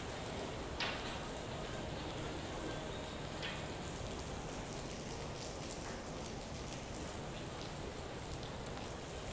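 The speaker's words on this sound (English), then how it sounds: "So it is heavily raining." Heavy typhoon rain pours steadily over a Hong Kong waterfront, a dense, even roar of drops close by with a few sharper splashes and no pauses.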